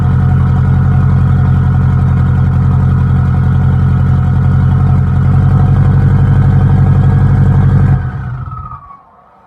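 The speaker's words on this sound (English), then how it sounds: "get a nice little cold start sound for everybody to enjoy" An 800hp Subaru STI with a new exhaust cold starts and idles, a loud, steady, deep rumbling engine drone held close for about eight seconds before it shuts off and fades away, with no talking.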